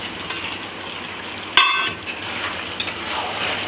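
Potatoes sizzle in a frying pan alongside chicken during home cooking of a chicken dish, a steady hiss with a sharp clatter or drop of pieces midway and a few light scrapes.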